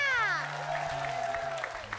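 Audience applause for the band at the close of a TV comedy show, a short burst of clapping mixed with music tones and a voice over it, fading quickly.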